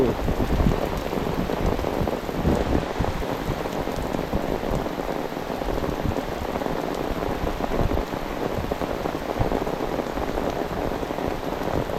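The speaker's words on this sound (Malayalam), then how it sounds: "ജൂണിലെ മഴയൊക്കെ നേരത്തെ ആയെന്ന് തോന്നുന്നു" Heavy summer rain pours down on hard surfaces as a dense, constant hiss and patter with no letup, loud and close, alone with no talk.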